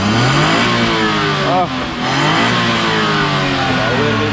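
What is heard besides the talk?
car engine revving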